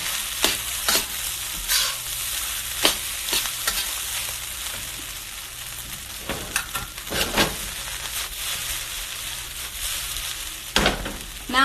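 Rice stir-fries in a hot pan with a steady sizzle, punctuated by frequent sharp spatula scrapes and clacks against the pan, close and loud.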